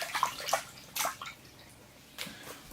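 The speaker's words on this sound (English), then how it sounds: "wash it down a bit with some water." Water splashes and trickles as it rinses excess cement off a miniature stone-block temple for a bonsai display. The splashes are short and close and come in a few separate bursts, with quiet dripping in the gaps.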